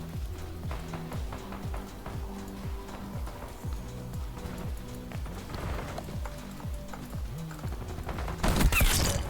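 Gunfire in Call of Duty Black Ops 6 with a sniper rifle in play: a steady run of repeated low punchy shots in a regular rhythm throughout, ending with a louder burst of noisy impact near the end.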